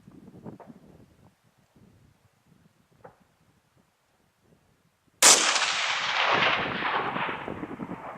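A single sharp rifle shot from a 17 Hornet rifle, a Ruger 77/17 or Savage M25, cracks loud and close after a few faint quiet sounds, followed by a long rolling echo that fades slowly.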